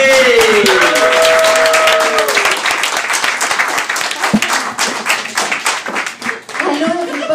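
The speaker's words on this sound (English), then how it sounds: "Give a huge round of applause for Miss Kalliope!" Comedy club crowd at Yuk Yuk's Montreal breaking into loud, dense applause for a comedian, the clapping swelling early and then thinning out, with a host's voice calling over it near the start.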